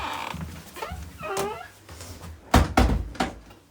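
A holiday hut door in wintry Lapland is handled with rattles and scrapes, followed by several hard, close thumps and knocks, while a voice speaks over it.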